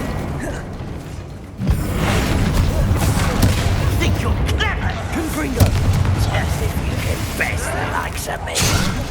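A Confringo fire spell bursts during Hogwarts Legacy combat on PC, opening with a sharp boom and then giving way to a sustained roar of crackling blasts and clanks, with game voices shouting over the noise.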